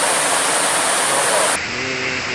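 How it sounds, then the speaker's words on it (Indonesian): A small waterfall at Tretes in Pangonan, Tlogowungu, running low in the dry season, gives a steady, close broadband rush of falling water that carries on without a break. "air yang terjun dari atas kurang besar"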